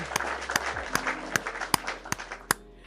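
Sharp hand claps, about eight evenly spaced in a steady beat, close and crisp over faint background noise.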